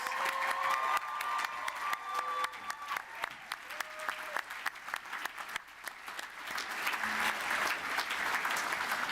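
Sustained applause from a graduation ceremony audience at a university, steady and fairly loud, with a few faint voices and cheers rising through the dense clapping.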